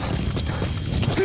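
D-Horse, the horse in the video game Metal Gear Solid V, clip-clops along in a steady run of hoof beats that sit close and fairly loud against dense background noise.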